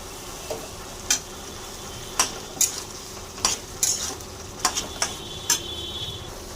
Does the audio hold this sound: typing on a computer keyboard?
no